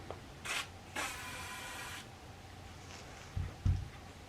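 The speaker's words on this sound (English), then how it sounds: "I'm just going to spray some CLP in there" Two short hissing bursts of CLP lubricant sprayed into an M1 Garand rifle barrel, the second longer, followed by soft rubbing and a couple of dull knocks, close up and with no talking.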